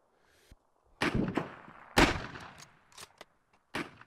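Vanguard: Normandy 1944 video game gunfire: several sharp, loud shots and short volleys crack out at irregular intervals with quiet gaps between them.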